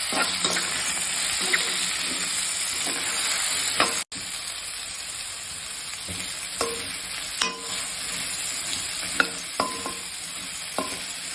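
Steady loud sizzling of raw banana frying in a pan, with occasional scraping stirs and soft clinks over the constant hiss.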